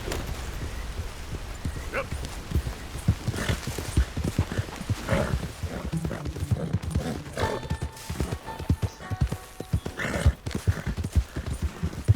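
A horse galloping in Red Dead Redemption 2 pounds out rapid, uneven clip-clopping hoofbeats at close range, with a few sharp snorts and whinnies over the running rhythm.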